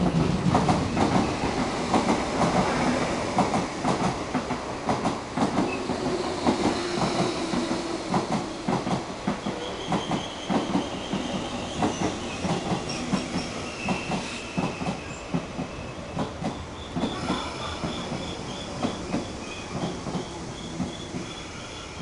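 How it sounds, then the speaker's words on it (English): A non-stop through train hauled by two locomotives rolls past a station platform, with continuous loud rumble, rhythmic clickety-clack of wheels over rail joints and some high squeals and hiss near the end. "A non-stop train is passing through the station."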